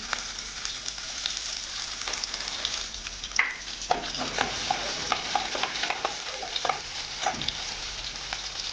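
Cumin, mustard seeds and crushed garlic fry in hot oil in a pan, giving a steady sizzle with scattered crackles and a few soft stirring knocks, close and moderately quiet with no talk.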